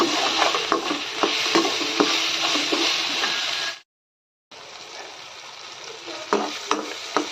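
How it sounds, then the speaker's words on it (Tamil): Onions and tomatoes sautéing with salt in a pan for dry fish curry give a steady close sizzle with scraping stir strokes, broken by a brief silent gap before the frying resumes. "வெங்காயமும் தக்காளியும் நல்லா வதங்கிடுச்சு."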